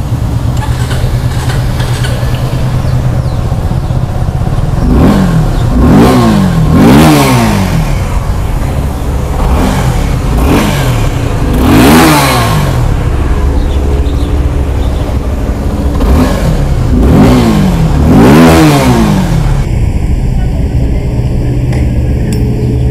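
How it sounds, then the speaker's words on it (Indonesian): A Suzuki Gixxer 250 motorcycle idles steadily and is revved repeatedly, each blip rising and falling in pitch, loud and close throughout without talk. "Jom kita dengar, okey, bunyi Gixxer"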